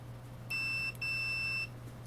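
A multimeter continuity tester on a DeWalt 20V Max battery circuit board gives two short electronic beeps, the second longer, clear and close against a low mains hum.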